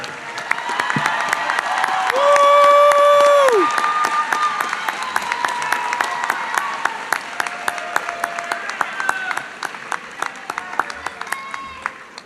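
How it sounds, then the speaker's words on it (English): Graduation audience at a university pharmacy commencement applauds with a broad, sustained wash of clapping and cheering, sharp individual claps standing out near and far, a brief whistle-like tone rising over the crowd. "give them a warm round of applause for those that played a significant role in your pathway to today"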